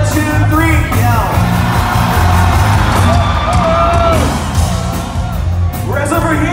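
A large concert crowd at a show at Fallsview Casino in Canada yells and whoops loudly in a sustained roar on cue, with an amplified voice calling out over the noise.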